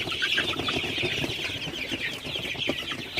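A flock of 42-day-old Sonali super hybrid chickens clucks continuously close by at night, a busy chorus of overlapping clucks and squawks with no pauses.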